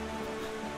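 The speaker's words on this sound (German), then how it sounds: "Und es regnet wieder." Steady rain falls in The Legend of Zelda: The Wind Waker, an even hiss of drops with a faint tonal ambience beneath, no voices.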